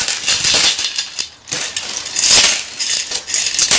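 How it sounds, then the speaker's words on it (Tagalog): Coins pour out of an opened savings box, a continuous bright jingling clatter of many small coins spilling and rattling together, loud and close. "Puro barya lang naman yata ang laman, guys."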